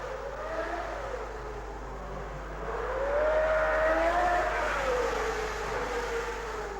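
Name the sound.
1960s racing car engine revving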